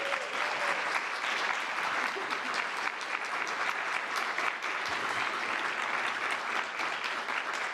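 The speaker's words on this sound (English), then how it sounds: "I want to acknowledge and clap it up for Asatis." A crowd claps continuously, a dense, even burst of applause that holds steady from start to finish.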